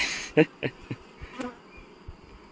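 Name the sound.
honeybees and drones buzzing at an apiary frame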